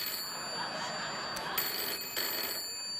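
A telephone rings on a late-night TV talk show set, its steady electronic ringing tone running continuously for a few seconds over a low background hiss.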